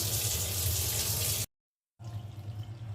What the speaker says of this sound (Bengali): এই যে মুরগিটা ধুয়ে নিচ্ছে।